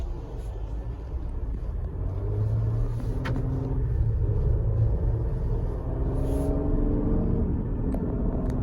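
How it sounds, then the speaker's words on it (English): A 2022 Ford Explorer King Ranch SUV with a turbocharged engine and four-wheel drive pulls away, its steady low engine rumble rising slightly as it accelerates, heard from inside the cabin with no talking. "You're gonna get good acceleration and great handling with this 2022 King Ranch Explorer"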